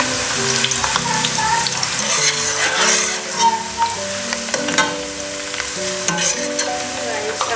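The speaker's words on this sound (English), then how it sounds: "I'll be frying the onion for 2 minutes before adding in the sauce." Onion sizzles in hot cooking oil in a pan, a steady crackling fry stirred now and then, with some clinking and kitchen sounds close by.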